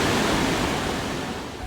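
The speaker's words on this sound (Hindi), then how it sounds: "पानी का बहाव बहुत तेज़ है" Fast-flowing glacial river near Pindari Glacier rushes past in a dense, steady roar of churning water, close and loud, easing slightly toward the end.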